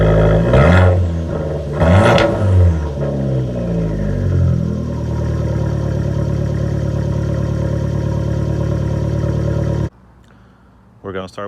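A Fiat 500 Abarth engine idles with a steady low rumble after a couple of brief revs, then cuts out abruptly near the end; a voice talks over the start.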